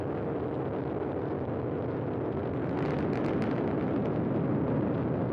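Nine Merlin engines of a SpaceX Falcon 9 roar during the Crew 12 launch, a dense, continuous, loud rumbling blast that swells slightly partway through, with no talk.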